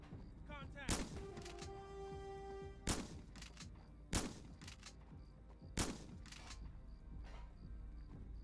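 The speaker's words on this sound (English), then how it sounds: "Shooting somebody with a shotgun." Shotgun blasts ring out in the video game Hot Brass, four sharp loud shots spaced a couple of seconds apart, with voices talking softly underneath.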